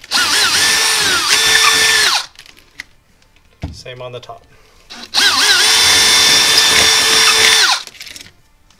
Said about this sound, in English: Now I'm going to take the pre-drill bit, go right into that pilot hole.